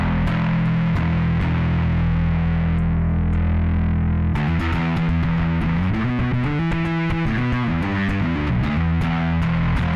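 Bass guitar played through a Joyo Monomyth bass preamp with distortion and high boost engaged, loud and continuous with gritty sustained notes, then a busier run of picked notes and chords in the second half, no voice.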